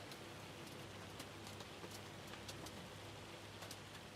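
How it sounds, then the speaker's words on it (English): Hail falling in Farming Simulator 25 on Witcombe Park Farm, a steady dense patter of small hard impacts with scattered louder clicks, continuous and evenly loud with no talking. "this hail is loud"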